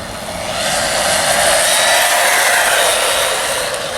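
Hyper Go 16207 3S brushless RC buggy screams past at speed, a loud steady high-pitched motor whine with broad hiss, swelling slightly mid-pass and holding near and constant without talk.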